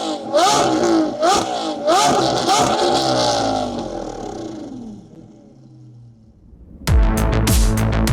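A self-built 800 bhp Audi TTRS with a 2.5 litre five-cylinder turbo engine revs hard in several loud, rising blips, then winds down and falls quiet before a sharp final blast, close by.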